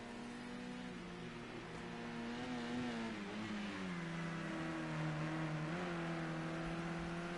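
A touring car engine on a hot lap at Imola in Project Cars 2, a sustained droning whine whose pitch rises and dips through gear changes, steady and fairly close with no pauses.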